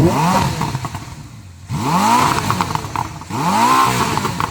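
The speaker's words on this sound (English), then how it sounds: "So I'm going to rev up this Ferrari. Let's have some twin turbo V8 noise." A Ferrari twin-turbo V8 revs hard three times in a row, each sweep rising sharply then dropping away, loud and close with brief gaps between.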